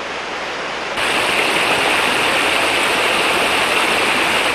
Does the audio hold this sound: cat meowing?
no